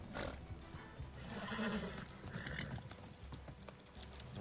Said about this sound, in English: You are such a nervous horse, boy.